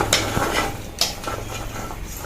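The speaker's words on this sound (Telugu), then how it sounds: "బాగా మిక్స్ చేసుకోవాలి" Spoon scraping and clattering against a bowl as mango pickle ingredients are stirred together, with a couple of sharper clinks over a steady low hum, close and fairly quiet.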